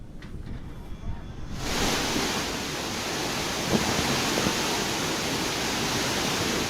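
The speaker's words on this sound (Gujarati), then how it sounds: "હાલ આ નદી બંને કાંઠે વહી રહી છે।" A river swollen by overflow from the Shetrunji dam near Bhavnagar after heavy rain, its floodgates opened, roars as a steady, dense broadband rush that swells in after a quieter opening and holds on loud and unbroken.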